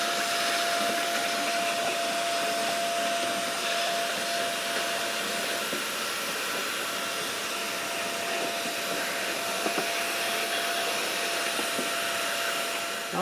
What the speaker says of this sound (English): Not the most powerful suction, but it's not bad.